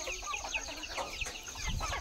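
A flock of native desi gavran chickens on a rural poultry farm keeps up steady overlapping clucks and chirps nearby, with a soft low thump near the end.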